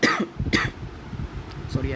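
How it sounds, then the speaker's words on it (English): A short cough and throat clear during an online lesson, two quick bursts close to the microphone followed by faint rustling. "I have a little cough"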